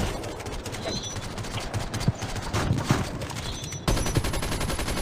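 Dense, rapid gunfire from Call of Duty Mobile Zombies in Undead Siege hard mode, with sentry turrets firing alongside weapons. Shots rattle continuously and loudly at close range, with a few sharper bursts standing out.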